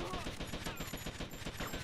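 Rapid bursts of gunfire from the video game GTA Vice City, dense and continuous through the whole short stretch, with a faint voice underneath.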